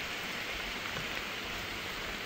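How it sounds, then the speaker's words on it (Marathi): Heavy rain falling in a forest on a trek route to Peb Fort, a dense, steady hiss of downpour with no distinct drops and no talking. "जोरात पाऊस चालू झाला आहे"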